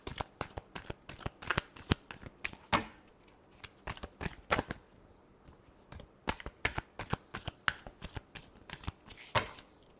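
Tarot cards riffle and snap together in quick, close bursts, shuffled repeatedly with short pauses between passes and no voices.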